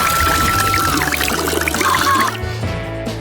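Water pours in a steady, splashing stream for over two seconds, then tapers into a quieter trickle, close and fairly loud, with no talk.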